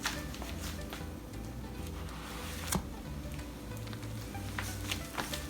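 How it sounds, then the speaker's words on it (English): A sandwich sizzles softly in melted butter in a pan on medium heat, giving a faint, steady frying hiss with a few small crackles under low background music. "Once the butter has melted, we will put the sandwich in the pan."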